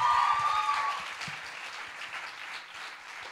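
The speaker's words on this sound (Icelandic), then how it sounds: "Við skulum gefa henni aftur gott klapp." An audience at a school singing competition applauds warmly, a sustained wash of clapping that slowly eases off, with a brief high whistle-like tone at the start.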